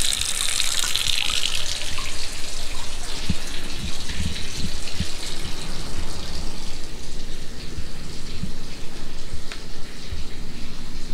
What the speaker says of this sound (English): Did you think I was at the sink? Yes. Left the water running.